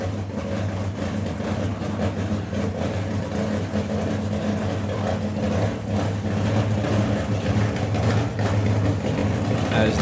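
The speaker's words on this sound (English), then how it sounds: "You hear the car start, the characteristic crackle of Nitro" A nitro-burning funny car at a drag racing meet fires up and settles into a loud, steady idle, a dense low rumble with rough crackling texture running continuously throughout.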